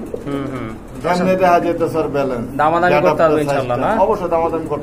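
A pair of yellow Telmark pigeons coos softly in repeated low calls, mixed in under steady talking throughout.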